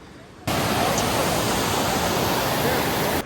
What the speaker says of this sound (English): This is the Hell Roaring Creek, the reason that so many people cannot do this trail.